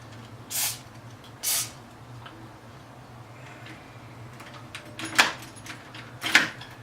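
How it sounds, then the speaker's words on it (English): Two short hissing bursts of lubricant sprayed into a door lock close by, followed later by metallic key jingles and clicks against a low steady hum. "spray your lock again"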